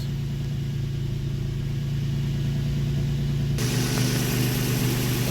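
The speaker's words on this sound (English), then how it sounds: "let's let it idle for another 5 minutes" A Nissan Sentra with a VQ engine idles steadily, a constant low rumble with an even mid-range hum that shifts slightly in tone partway through, heard alone and close.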